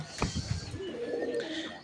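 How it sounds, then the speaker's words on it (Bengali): Pigeons in a home loft housing Giribaz, Satin and Homer birds, a short close coo followed by a longer throaty cooing phrase, fairly quiet. "এখানে এক জোড়া গিরিবাজ কবুতর"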